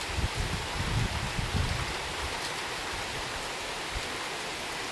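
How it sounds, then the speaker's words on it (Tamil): Rain begins falling in Karaikudi, a steady broadband hiss with some gusty rustling early on, fairly soft and continuous with no talking. "மழை ஸ்டார்ட் ஆகிடுச்சு."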